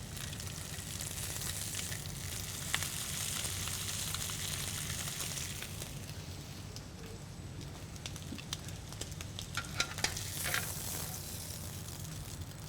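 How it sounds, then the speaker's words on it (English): Pork belly ribs pressed flat in a hot pan sizzle steadily as they sear and caramelize in a Szechuan-style dish, a constant close frying hiss with occasional small pops and scrapes. "Press all sides down to get a good contact of the whole surface of the ribs."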